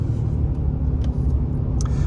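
A lifted truck on 40-inch tires rolls along with a steady low road rumble and engine drone. A few brief higher clicks or rattles cut through near the end.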